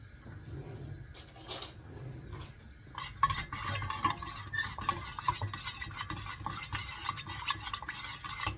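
A mixture with oil and red pepper powder stirred by hand, quiet at first, then a busy stretch of repeated spoon scrapes and clinks against the bowl, close and fairly soft.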